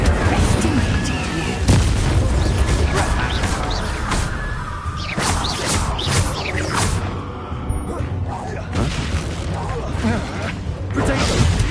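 An Incendio fire spell cast in Hogwarts Legacy during a battle, heard as booming, crashing blasts and rumbling impacts in a dense run of combat effects, with voices mixed in.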